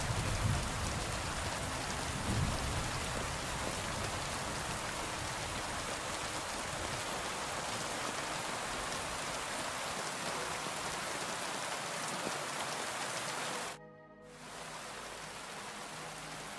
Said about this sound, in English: Raining, thunderstorm.